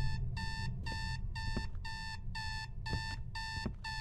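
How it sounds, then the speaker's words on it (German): An alarm clock rings in the horror game Is Simon There?, its bright electronic beeps repeating in short, evenly spaced bursts about eight times, steady and clear over a low background hum. "Warum steht mein Wecker im obersten Regal?"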